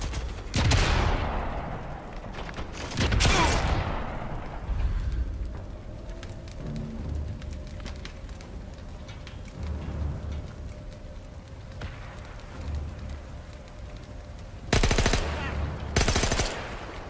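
Machine gun crew in the video game Sniper Elite V2 firing in loud bursts, with heavy shots near the start, around three to four seconds and again near the end, separated by quieter rumbling ambience.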